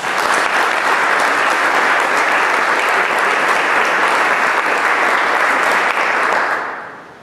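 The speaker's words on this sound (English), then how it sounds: "Let's give all of these a round of applause as well." A forum audience gives a sustained round of applause, dense steady clapping at full volume for about six seconds before tapering off, with no voices over it.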